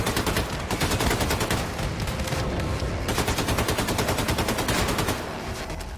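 Rapid assault rifle fire in Wolfenstein II: The New Colossus, loud close bursts of evenly spaced shots, nearly continuous with brief pauses, alone without talk.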